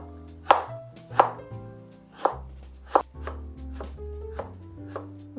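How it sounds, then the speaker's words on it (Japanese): A knife slices scraped, cleaned burdock root thinly on a cutting board for kinpira gobo, about eight crisp, evenly spaced cuts over soft background music. "泥を落としたごぼうを薄切りにしていきます"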